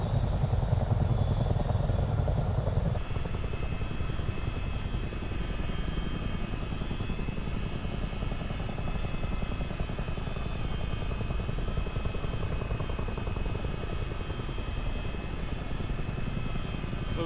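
A CH-47D Chinook tandem-rotor helicopter in a flight video game roars steadily through the whole stretch, a dense, continuous rotor and engine drone with the cabin doors open, loud and close without pause.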